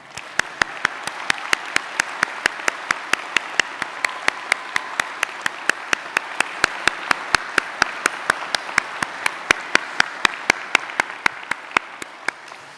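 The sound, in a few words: applause at graduation ceremony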